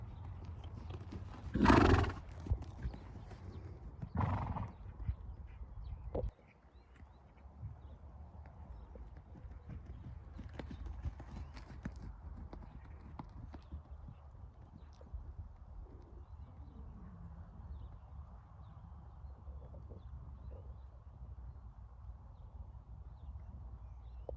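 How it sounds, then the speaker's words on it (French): A mare ridden at the trot in a riding session: soft rhythmic hoofbeats carry on at a steady pace, with a louder whinny-like burst near the start and a quiet outdoor background. "Donc je la fais bien trotter"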